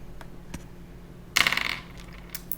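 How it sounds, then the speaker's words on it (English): A handful of about fifty gaming dice, including a D6 nested inside a D6, tumbling from a custom dice bag in a quick clattering burst of small hard clicks, close and loud, then a few scattered taps. "I'll just pick a couple up and try and attempt to show them. There they go, falling and whatnot"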